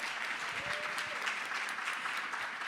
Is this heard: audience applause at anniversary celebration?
yes